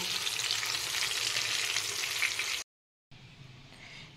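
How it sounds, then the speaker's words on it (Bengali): Hilsa fish fry in hot mustard oil with a steady, close crackling sizzle. The sound cuts to silence for a moment, then the frying returns slightly quieter. "এখানে দেখুন খুব ভালো করে মাছগুলো লাল করে ভাজা হয়ে গেছে"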